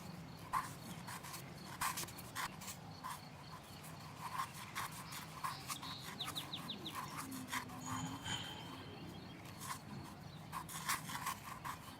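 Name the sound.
scrubbing with toothbrush in video game Cozy Game Restoration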